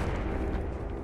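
A frag grenade blast in the Apex Legends video game, heard as a loud, sustained low booming rumble that fills the whole moment without any voices.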